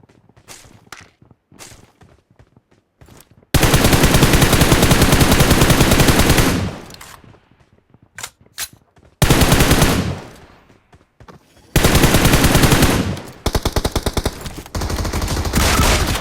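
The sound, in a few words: gunfire in video game BGMI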